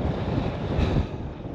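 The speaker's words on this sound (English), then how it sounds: "Oh, that wind." Strong wind roaring across the summit of Great Gable, a 899-metre fell, buffeting the microphone in a loud, continuous rush with gusts swelling and easing, no voices.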